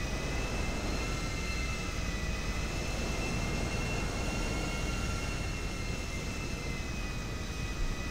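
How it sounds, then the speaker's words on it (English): An airliner taxis toward the runway, a steady broadband jet-engine roar with a faint high whine, constant and fairly loud throughout, heard from inside the cabin. "Gotta take this plane on the runway and we're gonna get rocking and rolling."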